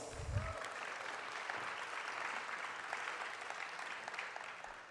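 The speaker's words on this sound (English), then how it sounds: "Let's give them all another round of applause." A town hall audience applauds with steady, dense clapping that holds for several seconds and tapers slightly at the end.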